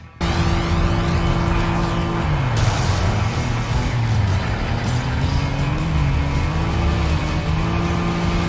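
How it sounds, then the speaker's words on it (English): Engines roar continuously in a PS2 racing video game, loud and sustained with shifting pitch as cars accelerate, with bursts of tire squeal and collision noise mixed into the dense, chaotic racing soundscape. "The crash effects are satisfying, engine noises are mostly powerful, and impacts and collisions feel appropriately chaotic."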